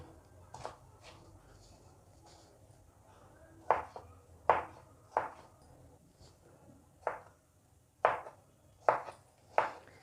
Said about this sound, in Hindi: खीरे को भी हम दोनों साइड से कट करेंगे और इसको सेंटर से कट करने के बाद इसको भी हम बारीक बारीक सा चॉप करेंगे जी।